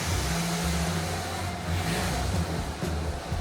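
A Mazda B2300 pickup, revived after sitting and rotting for 15 years, runs with its engine revving under throttle, a steady mid-pitched drone with slight rises, close and alone.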